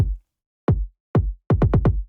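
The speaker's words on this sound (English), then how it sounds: "here, my kick sounds like this." A deep, boomy kick drum from a modern K-pop track hits alone: single thumps spaced apart, then a quick run of four rapid kicks, close and heavy.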